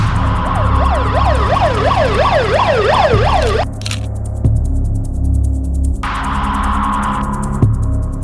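An ambulance siren wails loudly in a rapid rising-and-falling pattern, then gives way to other high electronic tones and traffic rumble.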